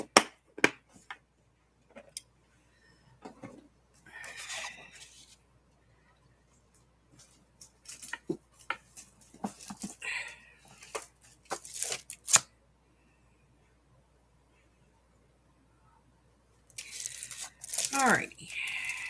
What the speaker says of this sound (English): So let's cut some pockets